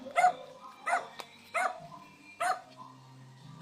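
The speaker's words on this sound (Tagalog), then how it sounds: "Itong maigay dyan, aso." A dog barks four times at a steady pace, sharp and fairly close, with quiet gaps between each bark.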